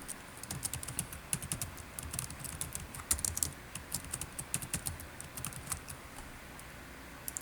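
Someone types on a computer keyboard, renaming a recording: a quick, irregular run of light key clicks, steady and close, with no speech.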